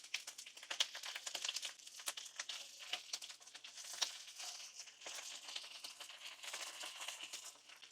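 Bok choy pieces sizzle cut side down in a tablespoon of olive oil in a pan, a steady crackling, popping fry with bursts of spitting, close and fairly quiet throughout.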